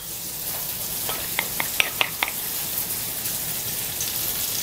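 Onion sizzling in a pan of hot oil during Peruvian creole cooking, a steady broadband hiss with a few sharp crackles and pops near the start, close and moderately loud with no talk.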